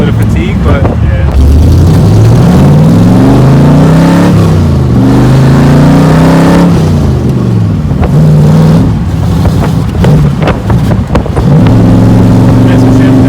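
A 1963 Corvette Grand Sport engine revs hard up and down through rising pitches near the microphone, with a stumbling break in the climb from a missed gear shift; voices talk underneath.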